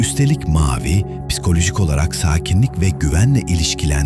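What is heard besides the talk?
No everyday noise stands out behind the speech.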